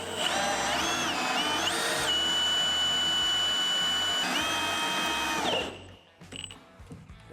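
A power drill bores into a car part on a 1964 Chevelle El Camino restoration: a loud, close, high-pitched whine that rises and dips in pitch for about five seconds, then cuts off, followed by faint handling noises.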